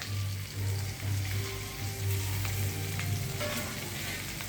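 Tomato frying in a pan for a mashed bitter gourd curry, giving a continuous soft hiss and crackle with a low steady hum beneath, fairly quiet and free of talk.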